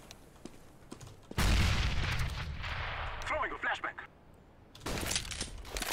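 Gunfire from a scout sniper in the video game CS:GO: a sudden loud blast with a booming tail, then quieter game noise and another sharp burst at the end.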